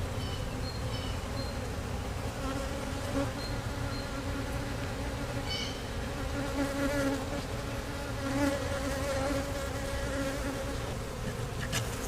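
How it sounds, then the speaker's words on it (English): A steady, dense hum of many bees in a neglected swarm trap buzzing close by, continuous and unbroken, with no voices. "I was hoping these bees would head on down"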